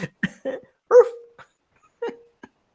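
A dog barks and yips in a few sharp, close bursts with short whimpering tails, spaced irregularly across the moment with no talk over it.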